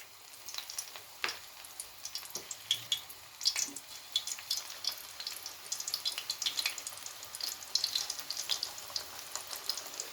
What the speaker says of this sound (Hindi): ऑयल गर्म हो चुका है, ठीक है। अब पकौड़े इसमें इंशाल्लाह ऐड करेंगे।